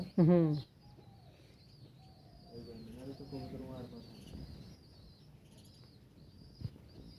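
A Giribaz pigeon coos softly in a loft, a short murmuring call heard near and faint after a brief loud voice, with quiet background noise.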